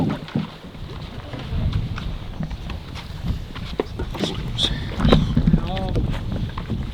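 Wind gusting steadily at a lakeside wilderness campsite, buffeting the microphone with low rumbling noise, with a canoe nearby being pulled up from the water and people talking over it throughout.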